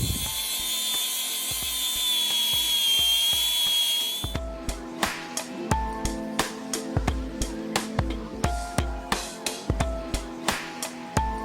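A small cordless grinder cuts bolts off an old Chevy Squarebody pickup being parted out. A steady, high, loud whine runs for a few seconds, then gives way to a rapid series of sharp metallic clicks and knocks.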